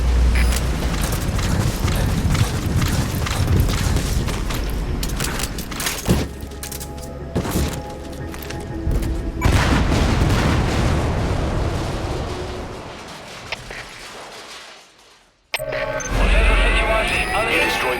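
An oily water separator tank explodes in Metal Gear Solid V, with heavy booms and rumbling bursts that fade into a brief near-silence before noise returns. Voices speak over parts of it.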